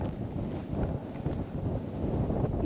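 Strong wind on a mountaintop buffets the microphone in a continuous low roar, steady and loud throughout with no voices.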